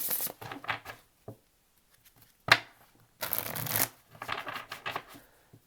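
Tarot cards are shuffled close up in several crisp riffling bursts, separated by short pauses and soft handling sounds.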